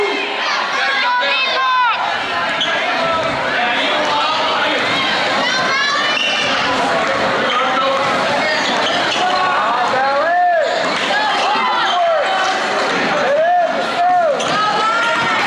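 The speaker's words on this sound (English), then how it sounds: "Hear this crowd getting into it now" High school boys basketball game crowd in a gym, loud continuous cheering and shouting with rising whoops, sneaker squeaks and ball bounces mixed into the dense roar.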